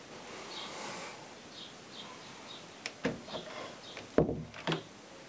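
A wooden door, just trimmed and rehung, swings on its hinges with a few sharp wooden knocks and clicks, a quiet creak between them, in an otherwise calm room.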